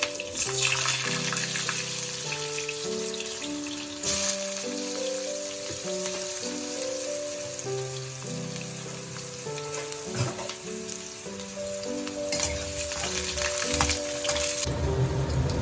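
Sliced potatoes frying in a pan for marich jhol, a Bengali dish with green chillies, a steady crackling sizzle running throughout under a looping melodic background tune.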